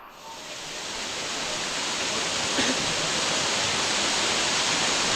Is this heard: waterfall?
yes